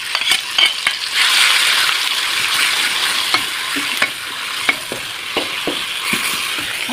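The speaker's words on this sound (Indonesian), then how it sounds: "setelah minyak gorengnya agak panas gitu, baru kita masukkan bumbu yang udah aku ulek tadi ya" Oil sizzles steadily in a pan while a utensil scrapes and taps now and then, stirring a hand-ground spice paste frying for chicken intestines and jengkol, close up and without talk.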